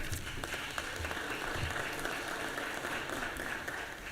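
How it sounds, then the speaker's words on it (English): Lawmakers give a round of applause in a legislative chamber during a 2025 session, steady, fairly distant clapping that fills the room evenly for about four seconds. "I think that deserves a round of applause."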